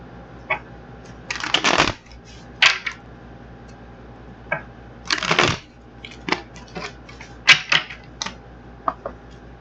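A deck of tarot cards is shuffled by hand, giving loud riffling bursts around two and five seconds amid lighter flicks, taps and card slaps throughout, with no voices.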